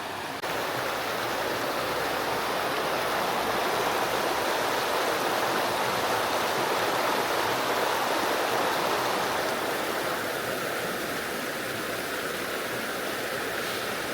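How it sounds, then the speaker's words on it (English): Water flows steadily in a stream in the hills of Uganda, a constant broad rushing and babbling that stays close and fairly loud for the whole stretch, with no voices. "Hear the sounds of water."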